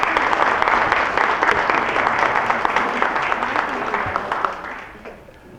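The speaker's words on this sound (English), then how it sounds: "please give them a round of applause" An audience gives a sustained round of applause at a ministry training session, full and steady at first, then thinning and fading out toward the end.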